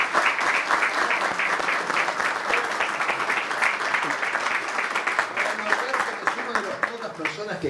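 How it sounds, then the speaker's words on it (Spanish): Sustained clapping from the audience at a lecture on thermal screeds and renders held at a union hall in Argentina, with many hands close together in a busy rhythm that holds at a fairly even loudness, while a few voices mix in. "les voy a pedir un aplauso para los que estuvieron trabajando"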